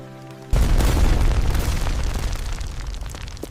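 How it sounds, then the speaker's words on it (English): A massive explosion goes off behind a garage with a sudden loud boom after a quiet moment, followed by a sustained roaring rumble that slowly fades. "What was that massive explosion behind our garage?"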